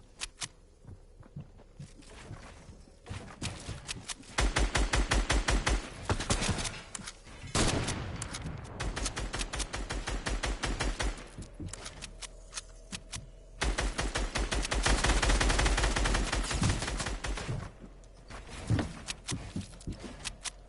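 An opponent fires at the player in Fortnite Season 10: long strings of rapid, evenly spaced shots come in several sustained bursts, loud and close, separated by quieter stretches of scattered single shots.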